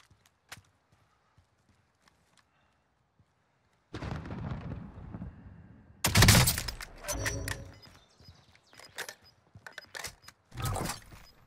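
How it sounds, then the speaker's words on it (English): Gunfire in the Warzone video game: a few faint, distant single shots at first, then a sudden loud burst of close firing and impacts, followed by scattered cracks and another heavy burst near the end. "Oh, someone's shooting."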